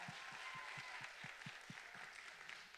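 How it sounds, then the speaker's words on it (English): An audience applauds at a spring performing arts showcase, dense steady clapping filling the room, with a faint rhythmic thumping underneath. "Let's give them a round of applause, please."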